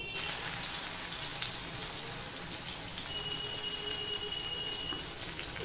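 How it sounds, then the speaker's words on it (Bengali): Crushed garlic crackles in hot oil as part of a Bengali lote (Bombay duck) fish jhol, a steady dense sizzle like rain running throughout, close and fairly loud, with no voices. "দেখো তেলটা হয়ে গেলে আমি দিয়ে দিচ্ছি রসুন।"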